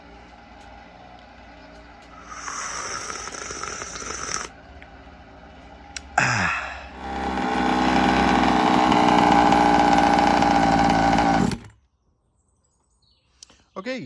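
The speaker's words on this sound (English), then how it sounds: "waiting for your petrol beast of an RC car to finish its 3rd tank idling" A KM Blade 34cc petrol RC car engine idles during break-in, a steady droning buzz that swells loud from about six seconds and runs for several seconds before cutting off, with lighter mechanical noise before it.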